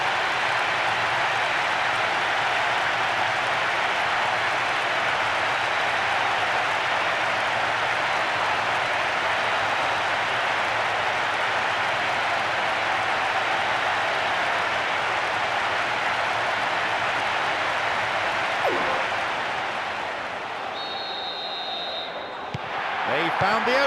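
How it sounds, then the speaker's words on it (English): Stadium crowd noise in the football video game PES 2009 (Winning Eleven) on PS2, a steady, loud wash of cheering that holds evenly before easing slightly near the end. "That strike has just brought so much excitement and cheering."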